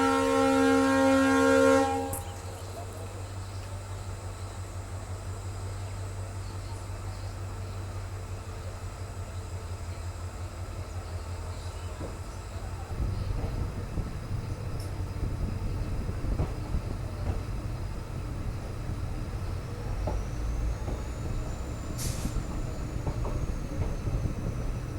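A diesel train pulls out of Challakere station on a rail journey from Bengaluru to Hosapete, with a steady low engine rumble and track noise that grows rougher and louder partway through, a brief high horn-like tone at the start and no talking.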